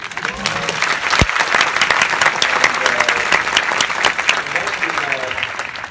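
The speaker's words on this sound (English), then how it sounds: "maybe applause for Timothy" Audience at a London Film Festival Q&A for a film bursts into sustained applause, loud dense clapping filling the room for several seconds, with a faint voice briefly underneath.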